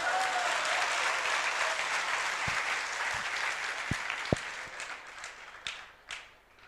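An audience at a religious discourse claps together, full applause that gradually thins out into a few scattered, isolated claps toward the end.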